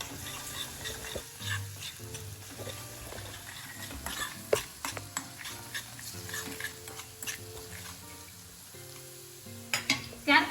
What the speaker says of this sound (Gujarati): હવે આપણે સોલ્ટ છે, હળદર છે અને ગરમ મસાલો છે આ એડ કરીશું અને આ રીતે બધું બરાબર મિક્સ કરી લઈશું